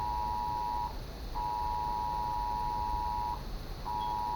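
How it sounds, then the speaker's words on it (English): A phone sounds an alert: three long, steady electronic beeps with short gaps between them, loud and clear over a quiet background hum. "that's my phone going off some kind of an alert."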